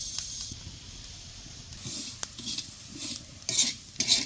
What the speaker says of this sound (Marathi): की भाजत आले चट चट चट आवाज येतोय